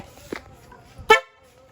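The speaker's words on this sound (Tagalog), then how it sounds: "Yung normal siya na busina, ito siya." A car horn fitted with a relay-wired loudhorn honks short and sharp once, near and clear, after a brief faint toot, over low background noise.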